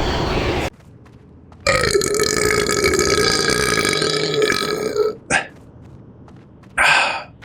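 A long, loud, rumbling burp rolls out close to the microphone, preceded by a short noisy burst and followed by two brief sharper bursts, with no speech.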